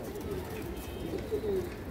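Low cooing from small fancy pigeons rises and falls in soft, continuous murmurs, with a few clearer coos in the second half, nearby and without speech.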